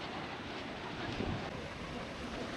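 Soft, steady wash of sea waves on a quiet, sparsely visited beach in North Goa, a faint rolling surf with light wind, no voices.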